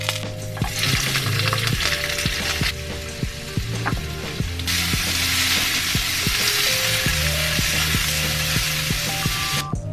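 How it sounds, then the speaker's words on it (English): Fish fries in a pan inside a van, giving a loud, steady, close sizzle that runs the whole time, with a few light clinks and scrapes of a utensil against the pan. "I'm not so sure if it was the best idea to cook fish in the van."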